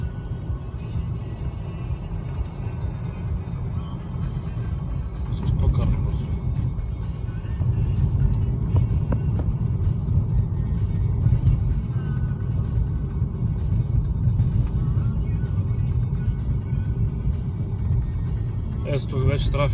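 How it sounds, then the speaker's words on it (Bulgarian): City road traffic with cars driving by, a steady low rumble of engines and tires that swells midway as vehicles pass close, with people talking over it throughout. "Ето тук вече трафика е малко по-приятен."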